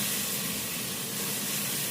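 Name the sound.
mustard oil sizzling in a pan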